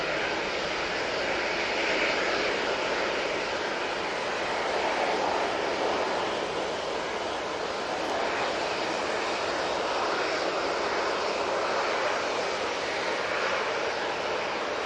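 Juneyao Airlines Boeing 787-9 Dreamliner arriving at Manchester Airport from Shanghai, a steady, dense jet roar that holds at an even level throughout, with no voices.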